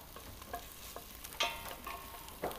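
Vegetables browning in a frying pan give a faint sizzle, with soft stirring scrapes and small pops at irregular moments throughout.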